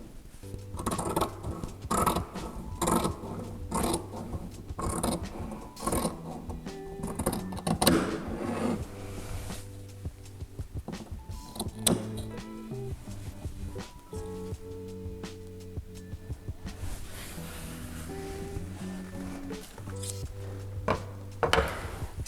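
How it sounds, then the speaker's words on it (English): Scissors snip through folded satin fabric in a series of crisp cuts, some in quick bursts and some spaced apart, close and fairly quiet. "So I'm going to start by cutting that."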